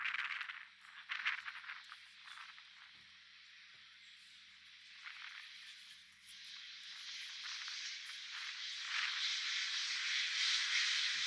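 A jet aircraft on runway 23 right at Manchester Airport rumbles from a distance with a steady, broad roar that slowly swells louder toward the end.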